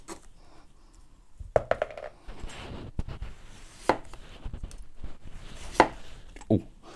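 A PAUDIN chef's knife with a 20 cm blade slicing food on a cutting board, giving several separate crisp chops with quiet scraping in between, close and fairly loud.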